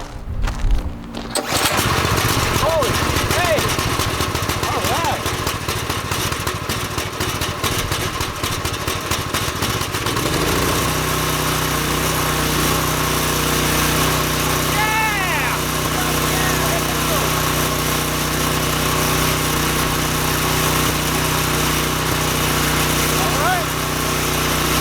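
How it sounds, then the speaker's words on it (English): The small engine of an Earthquake Victory self-propelled rear-tine tiller catches after a brief pull and settles into a loud, steady, buzzing run that continues without a break, with a few faint higher tones riding over it. "Repeat this step until the engine starts."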